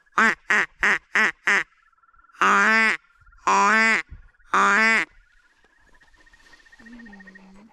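Frogs croak nearby in bursts: a quick series of five short croaks, then three longer rasping calls, over a quiet background.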